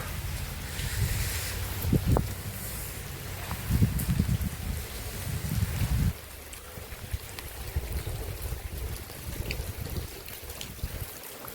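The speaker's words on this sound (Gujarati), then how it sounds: "તો જુઓ, વરસાદ મસ્ત પડી રહ્યો." Steady outdoor rain hisses across the whole clip in a village, with low rumbling gusts and a few heavier bursts early on, then a softer continuous patter.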